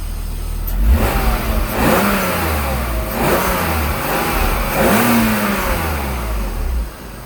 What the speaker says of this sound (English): I'm gonna rev it a couple of times so you can hear this engine again.